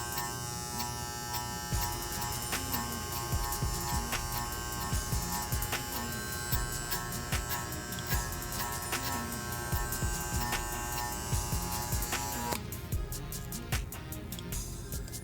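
Electric hair clippers cutting a high skin fade, a continuous steady buzz close by with small shifts in pitch as the blade moves through the hair, no talking.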